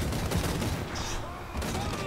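Hellblaster volley guns fire in Total War: Warhammer, a rapid crackle of gunfire with a couple of bursts under Spanish-speaking commentary and game ambience.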